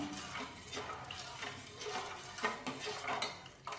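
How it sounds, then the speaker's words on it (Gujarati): A spoon scrapes and clinks against a pot while milk with dissolving sugar boils on a gas flame for a fruit salad, a continuous clattering stir with a bubbling undertone. "ઉકળે એટલે એને વચ્ચે વચ્ચે હલાવતા રહેશું"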